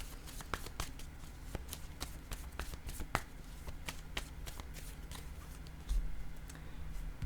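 Cards shuffled and drawn from a deck, a run of soft riffling clicks and snaps close by with a low steady hum underneath.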